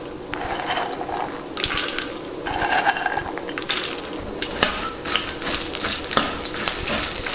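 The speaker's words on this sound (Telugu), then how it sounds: "ఇప్పుడు పూల్ మకానీని వేసి వేయించుకుందాం." Makhana (fox nuts) being fried in a little oil in a pan, with a steady crackling sizzle broken by irregular scraping and rattling as they are stirred, close and continuous.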